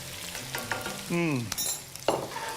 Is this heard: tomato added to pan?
yes